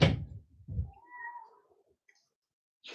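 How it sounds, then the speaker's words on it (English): A house cat meows once, a drawn-out wavering call that is close and moderately loud between a couple of dull thumps, followed by quiet. "my cat is yelling"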